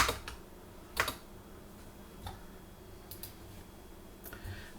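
Someone types a browser search on a computer keyboard, with sparse, quiet key taps and a couple of slightly louder strokes spread over a few seconds against a faint background hiss.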